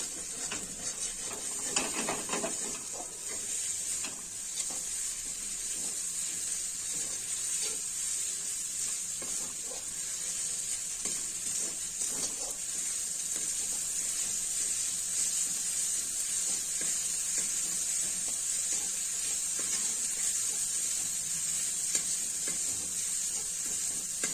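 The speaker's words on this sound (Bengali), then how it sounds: "দেখতেই পাচ্ছেন মশলা খুব সুন্দর করে ভাজা হয়ে গেছে, তেল ছেড়ে দিয়েছে" Spices frying in oil for a meat-gravy tarka give a steady, close sizzle with faint stirring scrapes, running continuously and fairly evenly throughout without talk.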